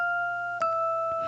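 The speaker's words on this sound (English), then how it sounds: "Now listen to the Rhodes on number 7." A sampled Rhodes electric piano holds two sustained clear tones, a brief new attack near the middle re-striking the chord, with faint air and hiss under it and nothing else present.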